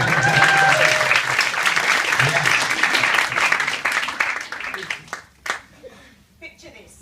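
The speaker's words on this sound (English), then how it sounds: "big round of applause for the amazing Angie Hani" An audience gives loud, dense applause for a performer, sustained clapping that thins out and fades into scattered claps and near silence toward the end.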